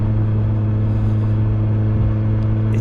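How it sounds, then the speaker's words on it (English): A 2020 Suzuki GSX-S1000F motorcycle engine drones at a steady, loud hum under throttle, a constant low rumble close by with wind noise and no clear rise or fall in revs. "it certainly has got some good throttle response when you do give it a good wind"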